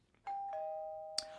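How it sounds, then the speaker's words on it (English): Doorbell sound effect in a children's story, a single near, clear ding-dong chime of two sustained bell tones, followed by a short sharp tap near the end. "When Auntie Daz rang the doorbell, everything was ready."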